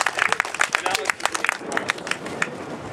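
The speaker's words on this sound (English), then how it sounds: "let's all give him a round of applause anyways" An audience claps in applause at an environmental community group event, a dense patter of many hands filling the room, with a host's voice talking over it.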